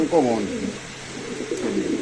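Low, rolling coos from pigeons at a pigeon market where large pairs are sold, a strong call at the start and softer cooing afterward, with voices murmuring in the background.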